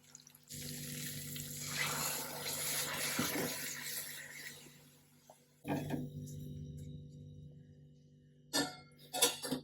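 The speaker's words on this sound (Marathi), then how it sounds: "आता हे थोडस कोमट पाणी टाकायचं" Lukewarm water is poured into a simmering drumstick curry, a soft steady pour lasting several seconds, followed by a brief second splash and a few quick closing trickles.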